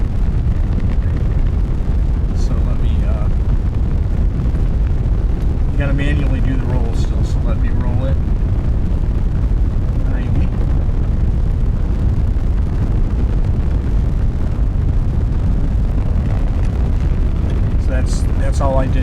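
A rocket engine in a spaceflight video game burns at full throttle during ascent through the lower atmosphere, a steady loud low rumble and roar running throughout with a voice talking over it.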